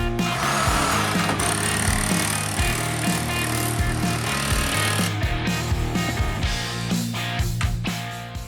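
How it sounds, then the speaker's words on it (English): A power saw cuts through a 2x4 in a doorway opening, a loud, close, rapid chattering buzz that runs continuously, with the blade biting hard into the wood. "get a saw, and cut out this 2x4"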